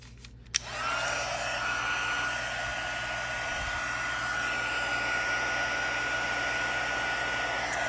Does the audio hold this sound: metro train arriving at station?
no